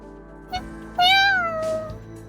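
A cat in the video game Aether Gazer lets out a single clear, rising-then-falling meow up close, preceded by a short faint chirp, with no talking.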